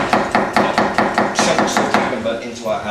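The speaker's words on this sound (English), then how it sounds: "we're going to cut this very, very, very thinly" A knife chops quickly and steadily on a cutting board, thinly slicing ingredients for a Thai dish, about a dozen crisp, even knocks before the rhythm fades.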